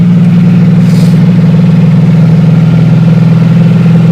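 A Shelby car engine labouring in fifth gear up a hill gives a loud, steady low drone with a close, even throb, alone throughout.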